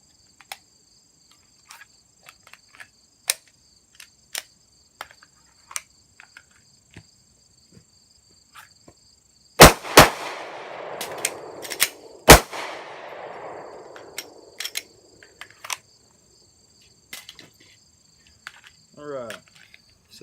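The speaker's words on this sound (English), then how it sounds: "So that's your speed reload." Handgun speed-reload practice: scattered faint metallic clicks and handling ticks, then two sharp loud gunshots about three seconds apart with a lingering ring, followed by more quiet clicks over a steady faint high insect-like buzz.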